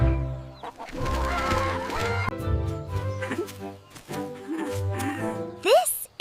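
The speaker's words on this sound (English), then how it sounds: "These are chickens." Farm chickens clucking and squawking in uneven bursts, close and fairly loud, with harmonic, voice-like calls mixed in and a sharp high squawk near the end.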